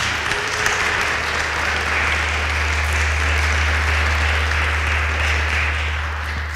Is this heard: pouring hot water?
no